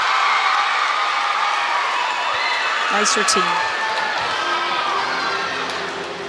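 Loud crowd cheering and shouting in a gymnastics arena after a floor routine at a Clemson versus North Carolina college meet, a sustained roar with whoops and scattered applause, a commentator speaking over it before it slowly fades.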